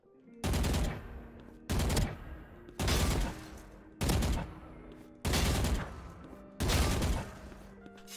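Gunfire in Valorant while counter strafing, six separate bursts of rapid shots spaced about a second apart, loud and close with brief quiet gaps between them, no talking.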